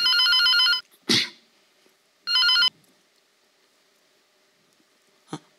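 A telephone rings on a comedy stage in two short bright electronic bursts about a second apart, with a soft thump and light rustling between them and a small tap near the end.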